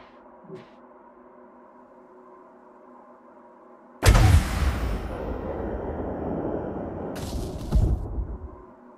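Point defence guns in a video game open fire in a sudden loud burst after a quiet start, sustaining a dense rumbling barrage with another sharp surge near the end, no voices over it.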